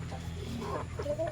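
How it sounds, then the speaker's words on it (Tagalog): A hen clucks softly after laying an egg on the ground, with short close calls over a steady low background hum and no voices. "Nag-egg na mga kabukals yung ating Tanaka"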